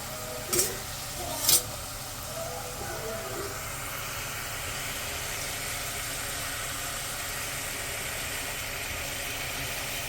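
Ingredients fry in a pan before chicken is added, giving a steady broad sizzle and hiss. Two brief scrapes come near the start.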